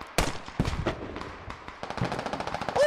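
Rapid bursts of gunfire from a squad-based military shooter video game, several sharp shots and fast automatic volleys crackling close and loud over nearly three seconds with no talking.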